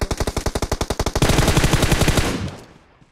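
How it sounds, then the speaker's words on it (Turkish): Automatic gunfire in the mobile battle royale game PUBG Mobile comes from behind the player: a fast, evenly spaced burst of loud shots that blurs into a denser volley before fading out. "Abi arkamdan da sıkıyor adam."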